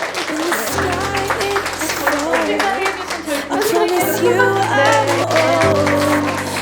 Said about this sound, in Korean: 나에게 박수 치면서 마칠게요